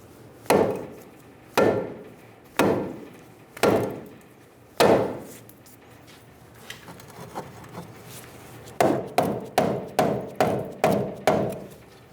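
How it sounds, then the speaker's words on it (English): A hammer bangs repeatedly on a steel steering knuckle to knock it off the strut on a 2000–2007 Ford Focus front suspension: five loud, spaced metallic blows, a pause with lighter taps, then a fast run of seven quicker strikes, close and alone. "Using a saw face hammer, we're going to bonk the knuckle down and get it off of the strut."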